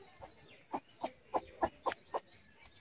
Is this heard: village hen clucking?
yes